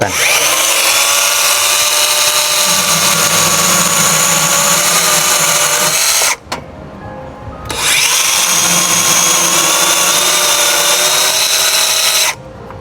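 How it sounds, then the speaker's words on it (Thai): A small Worcraft 6-inch 20V cordless chainsaw buzzes loudly and steadily while cutting wood, pausing briefly partway through, then resuming the high, whining cut. "มาดูการตัดนะครับของ เลื่อยโซ่ 6 นิ้วนะครับของวอลคาร์บ20 โวลต์นะครับ"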